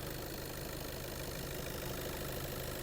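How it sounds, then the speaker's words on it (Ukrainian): A Skoda Octavia A7 engine idles steadily with an even, continuous rumble and faint rhythmic knock, close by, with no talking. "Робота двигуна."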